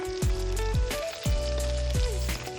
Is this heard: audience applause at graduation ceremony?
no